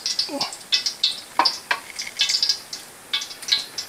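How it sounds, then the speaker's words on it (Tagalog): Crackling, spitting sizzles of chicken frying in hot oil, coming in irregular bursts up close, with a few light clinks, and no talking. "isunod naman natin prito ay yung manok."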